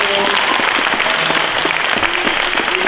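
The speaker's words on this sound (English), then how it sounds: "So, one last round of applause." Audience applause at the close of a lecture in the Eagle Legacy Lecture Series, steady and loud clapping from a crowd that fills the whole moment without a break.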